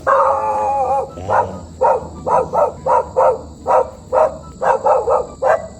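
A dog barks repeatedly, loud and nearby, in a quick rhythm of short sharp barks after a brief whining howl.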